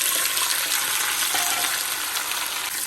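Pumpkin pieces hitting fenugreek frying in hot oil in a pan give a loud, dense, continuous sizzle with crackling throughout, close and steady.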